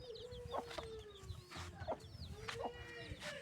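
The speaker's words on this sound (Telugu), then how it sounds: "అన్ని కోళ్ళు రాలేదు, కొన్ని కోళ్ళు వచ్చినాయి" Hens and their chicks cluck in a yard, with soft repeated clucks from the hens, high thin chick peeps, and a steady faint tone underneath, all heard at moderate distance.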